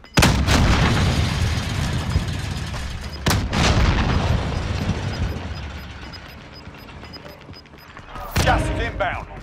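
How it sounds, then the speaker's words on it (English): Gunfire and heavy booming explosions from the video game Call of Duty: Modern Warfare, loud bursts at the start, a sharp blast near the middle, and another burst near the end, with game noise between. "Plant explosion."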